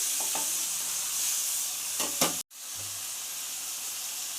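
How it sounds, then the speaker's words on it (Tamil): One kilo of spiced chicken fries and hisses steadily in a pan, with a couple of brief stirring scrapes and knocks breaking the constant sizzle, heard alone without talk. "1 கிலோ சிக்கன் நல்லா வதங்கட்டும்."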